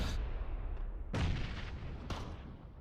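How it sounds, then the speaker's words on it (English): Grenade explosions in PlayerUnknown's Battlegrounds: two or three heavy booming blasts in close succession, each followed by a rumbling decay, loud and without talk. "We just threw a bunch of grenades, artillery strike them."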